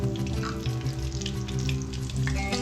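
Tempering seeds fry in hot oil in a pan already used for frying spinach, giving a steady, close crackling sizzle with small popping bursts throughout and no talking.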